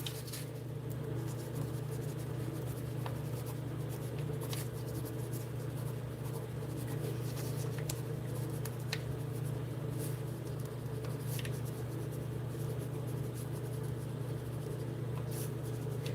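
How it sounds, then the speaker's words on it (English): Faint scratchy strokes of a pen writing on a crumpled, balled-up photo, heard in short bursts over a steady low hum with no one speaking. "Now let's write on it."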